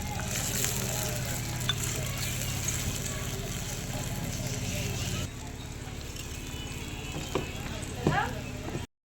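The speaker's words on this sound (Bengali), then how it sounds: "দেখতে পাচ্ছ কত সুন্দর ফুটছে মাছগুলো" Small mola fish fry in hot oil, giving a continuous sizzle with occasional stirring clinks while a person talks over it.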